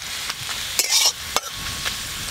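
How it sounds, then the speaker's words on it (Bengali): Chopped garlic fries with bay leaf, dried red chilli and nigella seeds in hot oil, giving a steady loud sizzle broken by sharp scrapes and clinks of a stirring spoon against the pan. "ফোড়নের সঙ্গে রসুনগুলো একটু ভালো করে ভাজা ভাজা করব"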